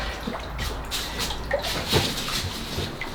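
Water runs and trickles into a hot tub's bottom reservoir as it fills, a soft continuous splash with a few brighter drips scattered through it.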